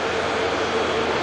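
A Juneyao airliner bound for Shanghai departs runway 23 left at Manchester Airport, its engines giving a steady broadband roar that holds even throughout the short stretch.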